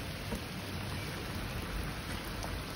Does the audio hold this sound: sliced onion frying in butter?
no